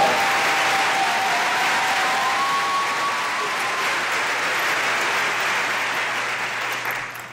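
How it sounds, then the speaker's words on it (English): A convocation audience applauds the Magnolia West High School drum line, a dense, sustained roar of clapping that holds steady for several seconds and then tapers off at the end. "please give them a round of applause"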